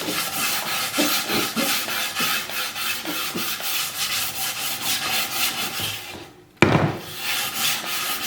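Hand sanding of a primer coat on a resin piece, a steady close scratchy rubbing in repeated strokes, broken by a brief pause and a sharp knock before the rubbing resumes.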